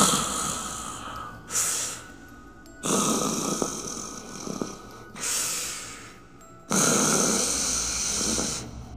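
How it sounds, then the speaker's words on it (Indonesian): A sleeping woman snores loudly and close up, a story sound effect: four long, rasping cycles across several seconds, each inhale swelling into a harsh rattle, with short quiet pauses between them and no talk. "suara dengkuran itu semakin keras terdengar"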